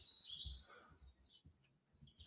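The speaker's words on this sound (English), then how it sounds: "I'm hearing birds in the background" Faint birds chirp in the background outdoors: a few short, high tweets come and go over a quiet low rumble, with no one talking.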